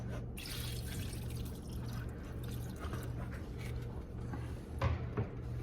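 Water pours and trickles steadily into a pot of okra at low volume, with a faint background hum throughout.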